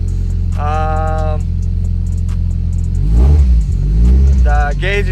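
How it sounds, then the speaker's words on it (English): A Nissan S15 runs at a steady idle, then revs up hard around the middle and roars close and loud before settling back. It has just been started up after a fire. "The car runs good."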